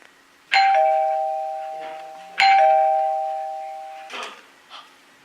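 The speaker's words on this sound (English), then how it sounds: "Did you hear that, Grandma?" A doorbell chimes twice in quick succession, each ding-dong ringing out clearly and decaying slowly, followed by a couple of faint knocks or thumps.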